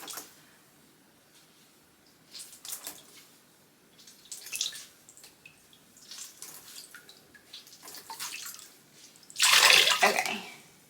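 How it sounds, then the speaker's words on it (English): Wet handspun yarn squeezed along its length by hand, releasing water in several separate splashing, dripping bursts with quiet pauses between them, the last burst the loudest and longest. "So I'm gonna squeeze it kind of down the length just to get some more of the water out."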